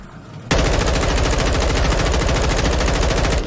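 Automatic gunfire from a video game shooter, starting abruptly after a brief lull and continuing as a fast, steady, loud stream of rapid shots for about three seconds with no talk.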